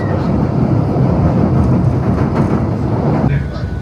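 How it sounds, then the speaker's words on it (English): An elevated train rumbles steadily close by, a loud continuous roar with faint rhythmic clatter, while voices talk over it. "The train like flies next to their windows."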